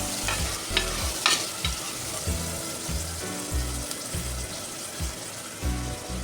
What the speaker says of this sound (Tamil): தக்காளி போட்டுக்கலாம், நல்லா வதக்கி விட்டுக்கலாம்.